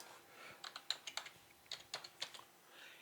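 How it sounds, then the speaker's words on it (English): A computer keyboard is typed on in a short, quiet burst of about a dozen crisp, uneven keystrokes, close by with no talking. "I'm going to type in sample contact."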